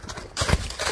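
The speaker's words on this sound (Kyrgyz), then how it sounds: "Чабып кетти." A racing horse gallops past, hooves clip-clopping in quick close beats, with a louder burst of thuds midway.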